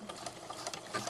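A sewing machine runs a short-length stitch through a three-layer curtain hem, giving a quiet, steady, rapid whirring with faint rhythmic ticks.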